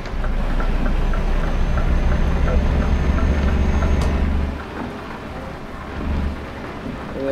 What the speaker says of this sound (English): Now it is raining now, so we have to drive carefully.